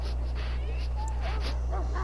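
Mabari war hound in Dragon Age giving short yips and whimpering barks over a steady low hum and faint game ambience, with speech mixed in.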